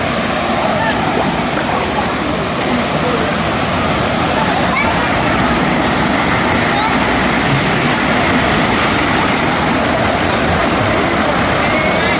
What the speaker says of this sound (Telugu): వాటర్ ఫాల్స్ ఎంతో అందంగా ఉన్నాయి కదండి